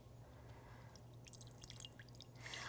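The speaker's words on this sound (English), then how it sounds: "I'm going to go ahead and pour some off." A barrel-aged cocktail pours from a small wooden barrel into a glass, faint at first and then a thin trickle with drips growing louder toward the end over a low hum.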